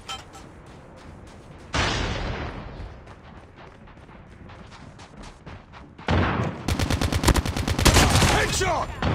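Gunfire in COD Mobile multiplayer: scattered shots at first, then a sudden loud blast and, later, a sustained rapid machine-gun stream, close and dense, with faint game voices in the mix.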